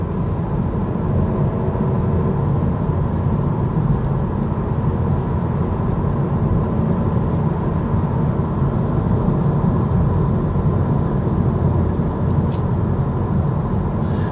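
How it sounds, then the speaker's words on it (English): Inside the cabin of a moving 2026 Honda Prelude, a steady broadband rumble of road and wind noise holds at an even level throughout, with no one speaking. "there have been some areas where I've driven where you could definitely hear a lot more road noise, wind noise"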